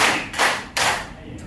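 Hands clap sharply in a clapping game, a few quick claps in short bursts, close and fairly loud, with no talking over them.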